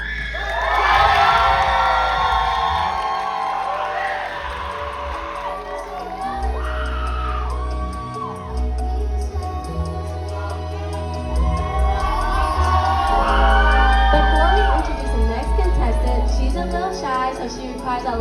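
Live audience at a rose pageant cheering, whooping and shouting as a contestant is welcomed, a loud, sustained wave of voices that swells, dips briefly and rises again.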